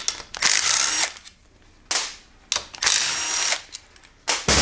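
A ratchet loosens the valve cover bolts on a GY6 scooter engine in bursts of rapid clicking, several separate runs of ratcheting with short pauses between them, close and loud.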